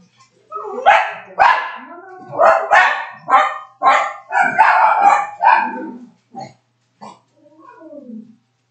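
Dogs bark close by in a home, a run of about ten loud, rhythmic barks followed by a few scattered yips and a short whine as they settle.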